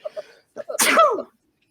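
One sharp, loud sneeze up close, preceded by a couple of quick intakes of breath, then silence.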